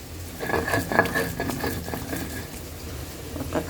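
Coriander leaf paste ground by hand on a stone slab pata, a steady scraping and rolling grind with soft patting knocks repeating up close, no talk.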